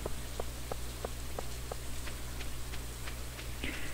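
Rain falling in the farming game Stardew Valley, a steady soft hiss with a string of light, evenly spaced drip-like ticks over a low constant hum, with no talking.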